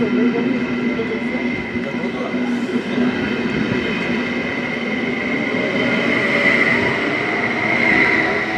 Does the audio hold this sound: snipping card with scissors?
no